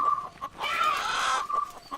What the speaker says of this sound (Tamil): கோழி கத்திக்கிட்டே இருக்க எரிச்சல.